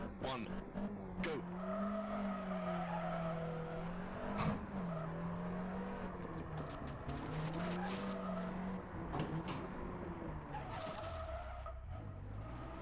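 A rally car on the Circuit of Ireland '84 stage in Richard Burns Rally skids through a handbrake turn, tires squealing under a steady, wavering engine drone, with sharp knocks and clatters scattered throughout the run.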